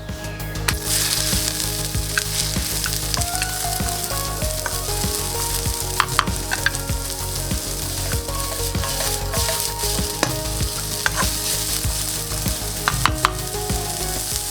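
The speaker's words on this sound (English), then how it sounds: "We're gonna saute the vegetable, a little bit of vegetable oil." Vegetables sautéing in a little vegetable oil on a stove at medium-high heat for chicken fried rice, a loud continuous sizzle punctuated by sharp utensil clicks and stirring scrapes.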